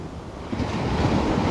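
Ocean surf washing onto the sloped sand of New Brighton Beach in Santa Cruz, a continuous rushing roar that swells louder partway through, with wind buffeting the microphone.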